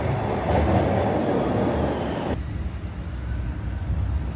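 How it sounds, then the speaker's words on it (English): Interior of a moving train, a loud steady rumble and roar of the carriage in motion, with the sound abruptly dulling partway through as if passing into a tunnel or changing section. "let's head out to the train"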